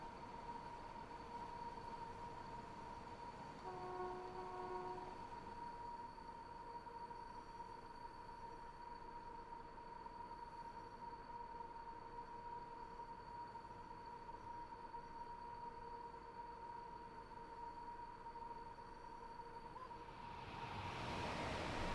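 A steady, continuous drone from a hard-worked, oil-stained locomotive in the Train Sim World 6 simulator, holding even and level throughout with a faint high whine riding on top and no talking.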